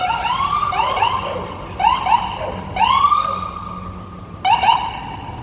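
A wailing siren rises and falls in repeated sweeping bursts, loud and close, with steady background rumble underneath and no talking.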